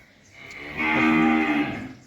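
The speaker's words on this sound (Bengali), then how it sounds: "এই হলো 2 নাম্বার একটা ফ্রিজিয়ান বকনা বাছুর।" A nine-month-old Friesian heifer calf gives a single drawn-out moo, close and clear, rising after a quiet moment and fading at the end.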